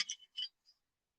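A metal and glass sun catcher clinks as it is handled: a few quick, light, bright chinks close together, then a single softer tap before silence.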